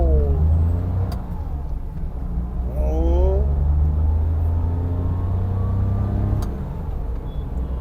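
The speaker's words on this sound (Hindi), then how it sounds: "अच्छा मारुति काफ़ी टाइम बाद चलाई है मैंने।" A Maruti 800 fitted with an imported LPG kit being driven, its engine giving a steady low rumble from inside the cabin with slight revving shifts while a person talks over it.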